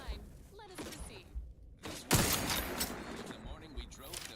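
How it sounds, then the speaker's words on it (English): Sniper rifle firing in a shooter game, one sharp loud crack with a thumping tail, among scattered other gunfire and impacts, with a voice talking underneath. "I like the sound on this sniper rifle."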